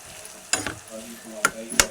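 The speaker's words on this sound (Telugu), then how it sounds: "కొంచెం సాల్ట్ వేసుకున్నాక బాగా కలుపుకుందాం మనం" Bitter gourd curry being stirred in a pan after a pinch of salt, with three sharp scraping strokes of the spoon over a soft, steady sizzle, close and alone.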